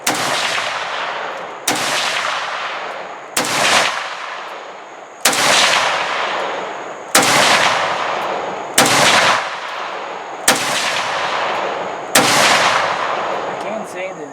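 An SG550-1 sniper rifle fires 63 grain Swiss ammunition at an outdoor range: eight loud, sharp shots, spaced about two seconds apart, each followed by a rolling echo.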